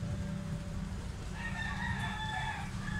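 A Boston bloodline gamecock crows in the distance in Carbon, Cebu, its call rising and holding over a steady low rumble of background noise.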